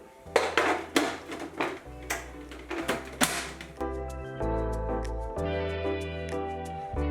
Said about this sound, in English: Sides need to be scraped down again